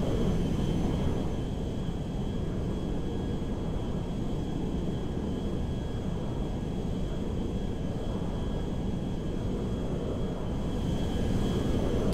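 A modded Boeing 747 Space Shuttle Carrier cruises in GTA V, giving a steady, unbroken jet engine roar and low rumble that holds at an even loudness throughout.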